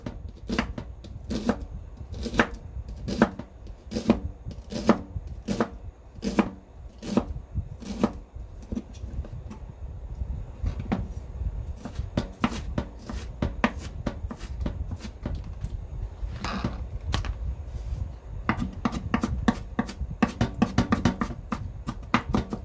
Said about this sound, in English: And I cut this up, slice it thinly